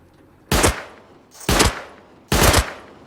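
Three loud bursts of weapon fire from Rust Console Edition, each a short rapid volley lasting a fraction of a second, separated by brief pauses and heard close with no talking.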